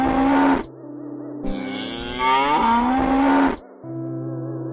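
A cow moos several times in drawn-out, loud bellows, one rising in pitch, close to the listener with no voices.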